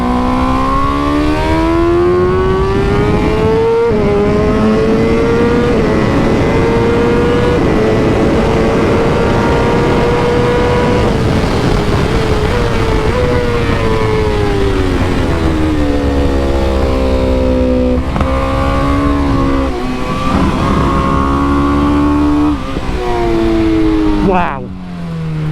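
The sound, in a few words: BMW M 1000 RR superbike engine on track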